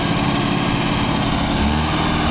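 A Mahindra 585 XP tractor engine pulling under full load, a loud, steady, close diesel roar that holds constant throughout with no speech.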